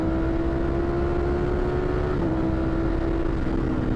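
Ducati Streetfighter V4S motorcycle on a race track, its engine a steady close droning roar with slight pitch dips as it downshifts, loud and continuous with no pauses.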